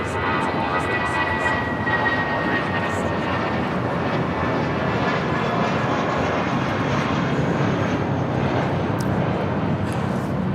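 A Spirit Airlines Airbus A320 taking off from LAX bound for San Antonio, a steady, moderately loud engine roar with broad rushing noise that holds evenly throughout, with no voices.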